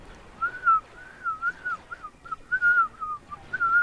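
Clone trooper in Star Wars Battlefront II whistling a tune, clear and close, with rising and falling whistled notes in short phrases over faint background noise.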